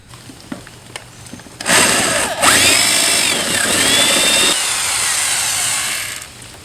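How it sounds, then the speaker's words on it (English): A power drill with a 3/8-inch bit whines steadily as it bites into a metal car door lock rivet, a loud grinding bore lasting several seconds before cutting off. "we're going to take a drill bit, 3/8 drill bit, and just kind of gently go in"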